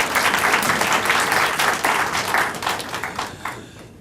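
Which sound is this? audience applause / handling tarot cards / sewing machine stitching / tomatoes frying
audience applause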